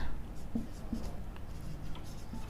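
Chalk or marker scratching across a board during a chemistry lecture on molecular structure, a few short strokes over a steady low room hum with no voice.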